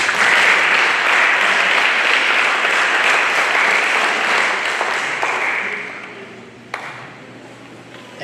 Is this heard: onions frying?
no